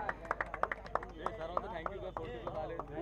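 An audience claps for the first-prize team at a prize ceremony, sharp individual claps landing in a loose, uneven rhythm while someone speaks over them.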